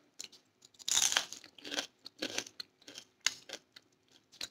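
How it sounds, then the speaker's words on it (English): Crisp, loud crunching as an air-fried onion pakora is bitten and chewed, a burst of sharp crackles followed by irregular smaller crunches, close to the ear. "Can you hear the crunch?"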